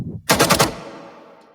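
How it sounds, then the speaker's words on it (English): A gunshot sample, pitched up for use in a music track, fires as a rapid burst of several sharp close shots, followed by a long, fading reverberant tail. "I found this gunshot sample which I thought was really cool"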